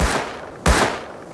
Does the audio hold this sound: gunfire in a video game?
yes